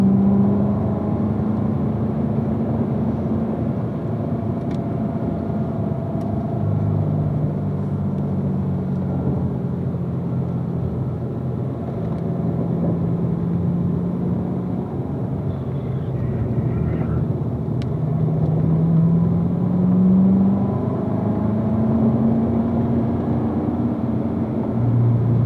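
A race car on a track climbs a hill under power, its engine droning loud and steady from inside the car with shifting pitch, while a voice talks over it.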